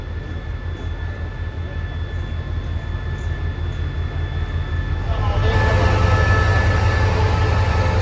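A diesel railcar running empty approaches and rolls in to couple onto another train at a Thai station, a steady low engine rumble that swells louder over the last few seconds, with no talk heard.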